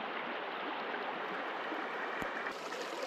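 A wilderness river in Algonquin rushes steadily around someone wading downstream while trout fishing, a constant broadband wash of water at moderate distance with no talk.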